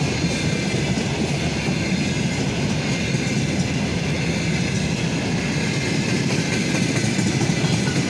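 A Russian Railways freight train rolls steadily past on the tracks, with a loud, continuous rumble of wagons and wheel clatter and no voices.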